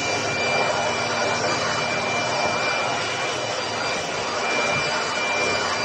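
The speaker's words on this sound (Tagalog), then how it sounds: "Talagang tinututukan ko ang pag-spray sa air cleaner na yan." Compressed air hisses steadily and loudly at close range as it is sprayed through the air cleaner filter of a Toyota Hiace Grandia van, a continuous rushing blast with no pauses.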